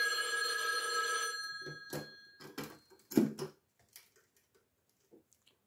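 A telephone rings with a loud, bright, continuous bell tone that fades out after a second or so, followed by scattered clicks and soft handling noises before near silence.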